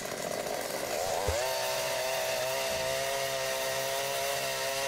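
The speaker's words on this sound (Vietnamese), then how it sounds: "động cơ 68cc này thì có thể khoan được trên tất cả mọi địa hình" A 68cc, 2.5 HP gasoline earth auger engine on a push-wheel frame roars loud and close throughout, climbing in pitch as it revs up and then holding a steady high whine.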